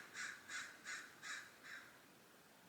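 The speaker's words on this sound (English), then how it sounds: "Did you guys hear that crow sound?" A crow caws five times in an even rhythm, harsh nasal calls spaced about half a second apart, heard outdoors at a moderate distance and fairly faint against quiet background noise, with no talk.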